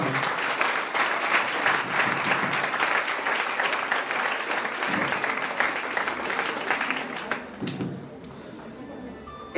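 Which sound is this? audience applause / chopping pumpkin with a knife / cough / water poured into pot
audience applause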